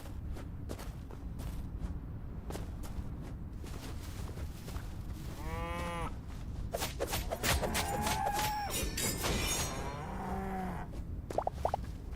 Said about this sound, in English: Damn zombie cows.